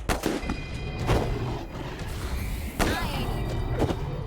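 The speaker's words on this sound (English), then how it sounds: "Lucia, just a regular bullet." Gunfire in the video game Wasteland 3, several sharp reports spread across the stretch over a steady bed of game music and ambience, no talk.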